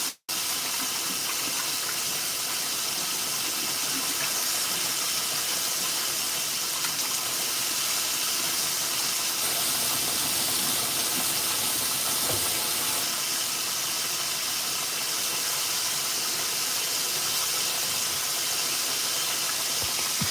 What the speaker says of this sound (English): it's sizzling now, baby